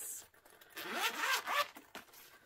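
Someone opens the zipper on a pencil case in a few quick, rasping pulls close to the microphone. The zip is fairly quiet, with short pauses between the strokes.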